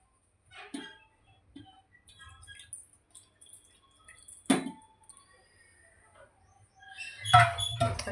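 Milk poured into a pot on a gas stove for two cups of tea, with sparse close drips and splashes, then a louder burst of pouring liquid near the end.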